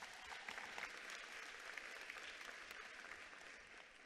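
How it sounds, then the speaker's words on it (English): A crowd applauds steadily, a dense continuous clatter of many hands clapping with no pauses, heard from some distance. "Let's give her a wonderful round of applause."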